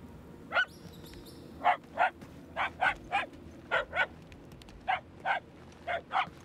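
Puppies bark in a Guardians of the Galaxy video game, a steady run of about a dozen sharp, evenly spaced yips over quiet ambient game sound, no talking.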